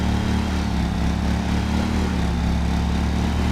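A small lawn mower engine, a 31-inch mower in a lawn mowing simulator game, drones steadily and loudly with a constant low hum and no breaks throughout.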